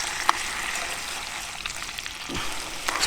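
Food sizzling steadily in a tiny pan on a Bushbox LF stove outdoors, a constant close hiss and crackle with a few small pops and a scrape of stirring near the end.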